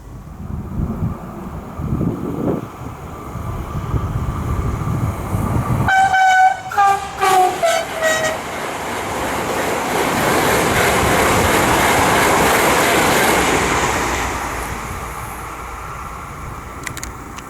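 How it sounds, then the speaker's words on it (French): A Z 50000 electric train rumbles past nearby at a level crossing in Lagny and sounds a loud, sustained two-tone horn in several short blasts, then the roar of the passing cars swells and fades. "Donc super coup de klaxon, merci au conducteur."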